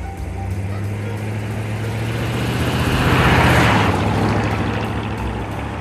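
A 1955 Ford Thunderbird engine runs with a steady low rumble that swells louder toward the middle as the car passes close, then eases off again, with no talking.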